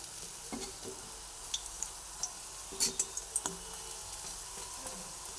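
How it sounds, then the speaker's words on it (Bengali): Besan (gram flour) pieces frying in oil, a quiet steady sizzle punctuated by scattered light clicks and taps as pieces are lifted out one by one. "ভেজে নিলাম সুন্দর করে তেলের মধ্যে দিয়ে এরপরে একটা করে তুলে নিচ্ছি তেলটা ঝরিয়ে নিয়ে তুলে নিচ্ছি"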